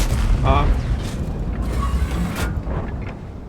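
Tank cannon fire in World of Tanks on the Karelia map, a deep booming shot followed by rumbling low-end echoes, loud and heavy, with someone talking over it.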